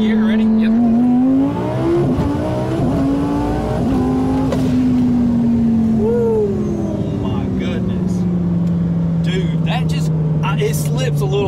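A Factory Five GTM supercar accelerates hard in second gear, its engine roaring loudly and climbing in pitch, then settling into a steady drone as speed builds, with people talking inside the car.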